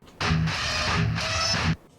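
A buzzy, noisy unprocessed guitar sound from notes played off the fretboard holds steadily for about a second and a half, with faint pitched notes inside the rasp, then stops.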